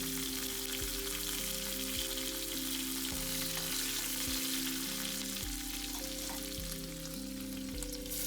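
Curry leaves and green chillies sizzle steadily in hot oil with crackling spits, along with regular rhythmic tapping and clinking of a utensil against the pan, close and continuous with no talking.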